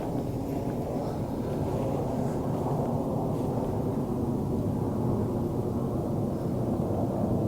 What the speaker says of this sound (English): Aeroplane in the background.